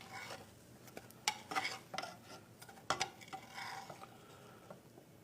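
Paneer kebabs are flipped in a pan, with soft, close clinks of a utensil against the pan and a few brief scrapes over a faint sizzle at a quiet level.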